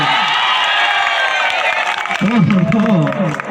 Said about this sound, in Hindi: तालियों की गुंज देखना चाहूंगा करपीहा के लिए